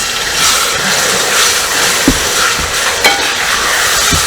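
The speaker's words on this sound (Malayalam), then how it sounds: "അരപ്പൊന്ന് കരിയാതിരിക്കാൻ വേണ്ടിയിട്ട് നമ്മൾ കുറച്ച് വിനാഗിരി ഒഴിക്കുന്നു" A steady, loud sizzle of vinegar poured into a hot pan of masala for beef pickle, with a couple of soft knocks from a utensil.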